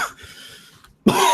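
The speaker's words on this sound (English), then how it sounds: "you could have got the coughs out the way before you talk" A man on a podcast coughing, a harsh close cough at the start and another loud burst after a short silence, recorded near the microphone.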